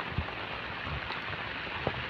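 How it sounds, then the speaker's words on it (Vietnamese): Light rain patters steadily on a surface during the flood season in rural Vietnam, a soft, even hiss with a few closer drops standing out. "Mưa quá rồi, mưa lâm râm."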